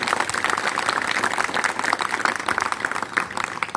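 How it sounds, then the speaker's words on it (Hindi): Audience applause at the close of a Hindi-language stage program, a dense, steady wash of clapping sustained at even loudness throughout, with no speech over it. "तो मजा आया तो एक बार जोरदार ताली।"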